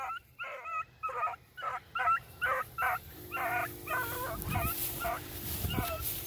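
A small puppy in a training pen gives a rapid series of high yips and whimpering barks, close and clear, followed by softer whining over a faint hum.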